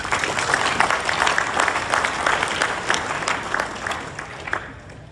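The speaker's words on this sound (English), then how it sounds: "Let's give them a round of applause." Gala audience in St. Louis applauds the event's sponsors, many hands clapping at a lively, even level that gradually thins and fades over about five seconds.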